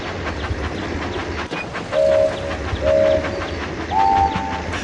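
A toy train engine runs along the track in a Thomas and Friends mobile game on a sharp-curved mountain coaster course, a steady rumbling clatter interrupted by three short two-tone whistle blasts.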